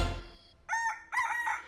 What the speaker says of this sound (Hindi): मुर्गी गला फाड़ने लगी